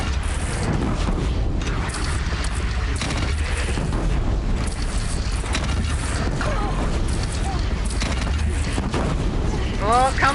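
A bandit clan's cannon fires during a Horizon Zero Dawn battle. The booms sit inside a continuous wash of battle noise with mechanical creaks and distant blasts, loud and steady throughout.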